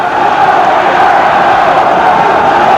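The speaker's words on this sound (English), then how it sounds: "The crowd now picking up the cheer" Boxing arena crowd at a 1979 professional fight, a dense steady roar of cheering voices filling the space, loud and unbroken with no distinct single voice.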